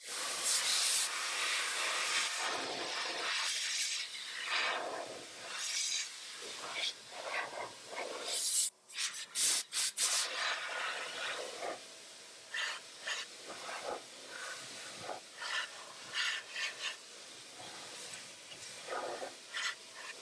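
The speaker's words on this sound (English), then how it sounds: "turn this on the blow mode, and I can blow in there and hopefully blow some of that junk out" A vacuum running in blow mode pushes air into the AC evaporator of a 1997 Land Cruiser, a steady loud hiss with gusty bursts and brief dips as debris is blown out.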